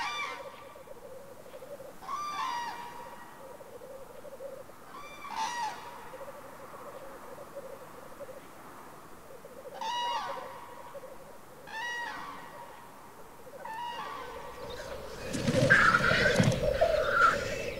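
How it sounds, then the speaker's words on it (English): A pair of cranes on moorland breeding grounds call during courtship, with repeated loud trumpeting bursts at regular intervals over a softer steady hen cooing, ending in a louder jumbled flurry of calls. "The hen signals she's ready to mate through cooing"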